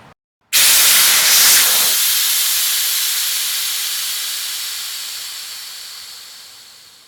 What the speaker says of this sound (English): it's gonna make a really loud noise for just a couple seconds, then the rest of the air is gonna let out